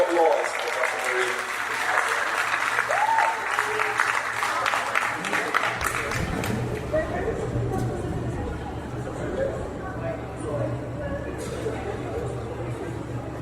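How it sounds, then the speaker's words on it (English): A crowd at a Rotary district conference claps steadily for a gift presentation, sustained applause with murmuring voices that gradually thins out. "One round of applause for Dr. Miriam."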